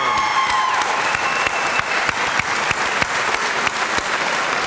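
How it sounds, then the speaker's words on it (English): A large crowd at a graduation ceremony applauding loudly and steadily, dense clapping sustained throughout without a break. "Please join me in a round of applause for the graduates"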